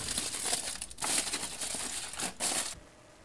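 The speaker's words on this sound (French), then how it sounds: "Je vais envelopper ma box Wi-Fi fixe dans du papier d'aluminium" Aluminium foil is crumpled and wrapped around a fixed fibre-connected Wi-Fi router box, giving close, loud crinkling and rustling in irregular bursts for about three seconds with no talk.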